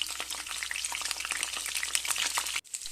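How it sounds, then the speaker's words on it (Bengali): Cauliflower florets fry in hot oil with ghee for a cauliflower roast, a loud, close, steady crackle and sizzle that cuts off abruptly for a moment near the end and then resumes. "তেলটা গরম হয়ে গেছে। এবার আমি ফুলকপিগুলো দিয়ে দেব।"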